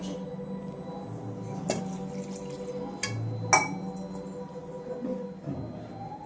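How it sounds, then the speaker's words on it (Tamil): Water poured from a metal pot onto goat trotters, a low gurgling fill with a few clinks and splashes of metal or glass along the way. "இதுக்கு ஒரு செம்பு தண்ணி ஊற்றிக்கிறாங்க"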